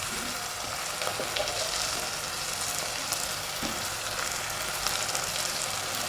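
Curry leaves dropped into hot oil for a tuna curry, giving a steady, dense crackling sizzle that holds at even loudness from start to finish, close to the microphone with no talking.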